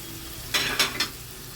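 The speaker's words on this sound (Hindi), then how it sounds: "मीडियम फ्लेम पे हम चलाते हुए इसको भून लेते हैं" Onions frying in a pan over a medium flame for paneer butter masala, with three quick scraping stirs of a spoon cutting over a soft, steady sizzle.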